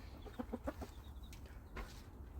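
Chickens cluck softly in short bursts over a low background hum, fairly faint and somewhat distant, with no voices.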